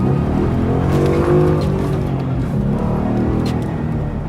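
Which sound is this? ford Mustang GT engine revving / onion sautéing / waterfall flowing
ford Mustang GT engine revving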